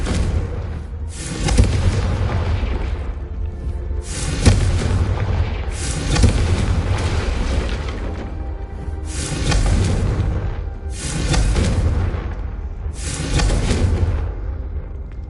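Blasts from the Confringo explosion spell in a Hogwarts video game: loud, repeated booming bursts about every two seconds, each followed by a rumbling decay that sustains a dense, continuous roar.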